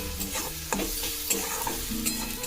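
Spices are stirred through masala egg bhurji in a hot pan: a spatula scrapes in several distinct strokes over a constant close sizzle, with no talking.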